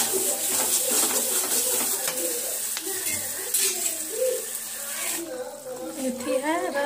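A pea and paneer curry bubbles and sizzles steadily in a pot, stirred with occasional scraping, close and continuous while someone talks over it.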